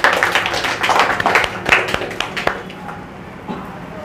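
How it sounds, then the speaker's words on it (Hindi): An audience at an Independence Day celebration at a coaching centre claps for a student's song, a close, lively patter of hands that tapers off into a few stray claps after about two and a half seconds. "एक बार आप लोग तालियां बजाइए।"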